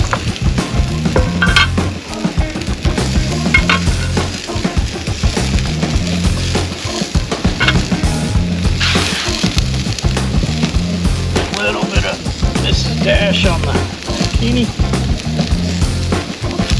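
Seasoned steak sizzles loudly over a fire grill at a riverside campsite, a dense continuous crackle and hiss close up with clattering utensil knocks, while someone talks over it.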